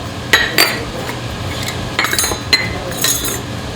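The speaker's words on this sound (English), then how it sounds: "So we're gonna use our cups. We're just laying it here." Cups laid down on a kitchen counter while cooking ube puto, producing a few light, scattered clinks and taps, close and fairly quiet over a faint background hum.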